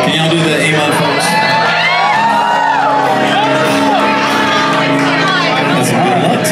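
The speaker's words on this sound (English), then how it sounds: "could y'all all scream out as loud as you can" A packed crowd at an emo concert on a cruise ship screams loudly and continuously, a dense roar of shouts and shrieks with rising and falling individual yells throughout.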